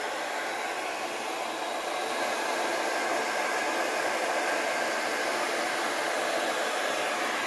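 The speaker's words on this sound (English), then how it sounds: "I think I pushed too hard there with the hairdryer." A hair dryer on its low, cool setting blows with a steady, loud whooshing hiss that holds constant throughout, with no voices.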